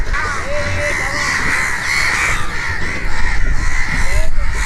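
Crows caw repeatedly at a riverside ghat on the Meghna where fishing boats moor, their calls rising over steady broadband ambience with some background voices.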